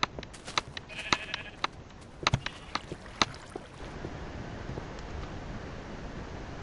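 Sheep bleating in the video game Minecraft, several short bleats scattered over the first few seconds amid sharp game clicks, then a steady wash of background noise takes over.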